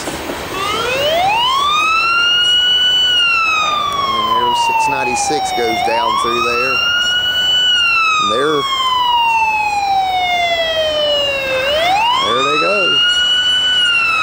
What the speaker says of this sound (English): There's that ambulance.